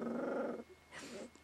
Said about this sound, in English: Me and my dog are barking this rhyme.